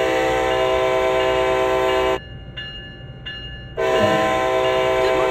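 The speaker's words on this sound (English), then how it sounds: "Use the horn to notify others around that this locomotive is about to start moving. Do this with 2 short blasts." A locomotive horn in the Train Sim World video game sounds two loud, sustained blasts separated by a brief gap, over a low rumbling train background.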